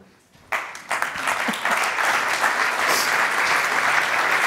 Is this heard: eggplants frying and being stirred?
no